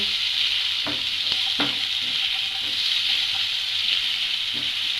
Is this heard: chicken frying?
yes